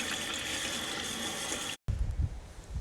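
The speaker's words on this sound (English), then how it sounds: "I'm going to pour those over the sink into the sieve. And then I'm going to rinse it through with water" Water pours and rinses through a sieve over a kitchen sink holding nettle pulp, a steady close splashing rush that breaks for an instant and then resumes in heavier gushes.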